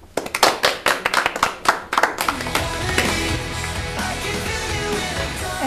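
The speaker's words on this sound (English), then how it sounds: "let's give applause to our second group" A small audience claps for a group in an English-language TV programme on music styles: a few sharp, separate claps open, then a fuller patter, and music comes in beneath as the applause fades.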